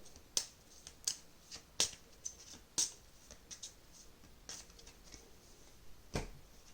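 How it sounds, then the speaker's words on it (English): Board game event cards are shuffled by hand, giving a series of sharp, crisp flicks and riffles with short gaps between them, close and quiet, with no speech. "my event cards have been used, so I have to shuffle them again"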